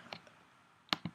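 Two crisp mouse clicks on an OK button in Dynamics NAV 2013 software, a faint one early and a sharper closer pair near the end, over quiet room hiss.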